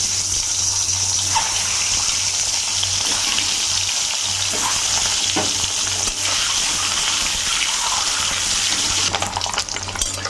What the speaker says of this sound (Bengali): তেল গরম হয়ে গেছে, এবার ডিমগুলো ভেজে নেব।